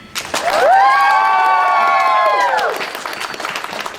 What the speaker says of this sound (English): Bring up applause for me.